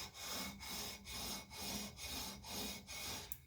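Sandpaper of 320 grit rubbed across guitar frets during fret leveling, making a steady series of about seven rhythmic abrasive strokes, close and fairly loud, with no voices.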